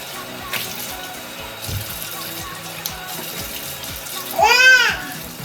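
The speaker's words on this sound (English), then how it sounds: "Now I just gotta wash my face." A tap runs steadily into a sink while someone washes their face, a constant close wash of water with a brief louder splash near the end.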